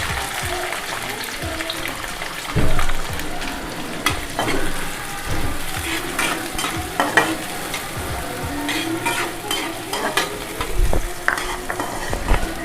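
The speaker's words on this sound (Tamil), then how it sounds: "வெங்காயம் நல்லா செவக்க வதக்கிக்கோங்க" Chopped onion and curry leaves sautéing in hot oil for a South Indian egg pirattal, a steady sizzle broken by repeated scraping stirs of a spoon against the pan, close and fairly loud with no talk.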